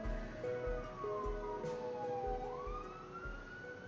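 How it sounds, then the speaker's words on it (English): Emergency sirens sweep slowly up and down in the mobile story game Choices: Stories You Play, sounding faint and somewhat distant over a quiet background with soft rhythmic thumps and no talking. "The sirens will be passing."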